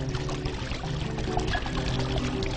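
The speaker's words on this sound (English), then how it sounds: "If this is splashing a little much, you can just grab a real rock and use that as a dispersion rock" Water pours and splashes steadily into a large patio pond, a continuous moderately loud trickling and splattering from a small fall onto the water surface, with no voices.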